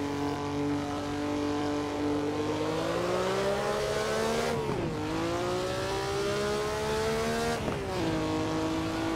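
A Maserati 250F race car at Imola in Assetto Corsa, its engine droning steadily with a rising pitch, then dropping sharply twice as the car brakes hard, loud and close throughout with no talk over it.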